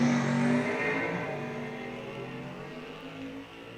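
Drag race cars launching side by side at an NHRA national open, a VW GTI automatic and a 340-powered Dodge Stratus, engines roaring loud and close before fading steadily as they pull away.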